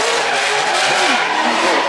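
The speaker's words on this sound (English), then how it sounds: "Here we go, on board with Mark Widdett in the Mazda." Mark Widdett's Mazda race car on the Goodwood Festival of Speed hill climb, 2016, engine roaring as the tyres squeal and skid through a spin, loud and continuous, close on board.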